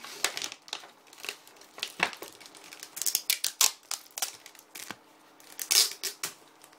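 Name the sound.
opening Pokémon card booster packs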